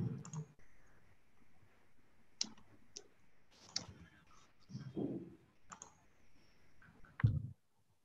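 A computer mouse clicks on a share screen button during a webinar, giving several faint, sharp clicks spread across a quiet room with soft background noise.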